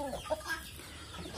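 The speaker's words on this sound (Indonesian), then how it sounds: "Nah, jadi ayam sangat lahap sekali memakan" Chickens clucking as they eagerly eat leftover bread, a short burst of close, soft clucks.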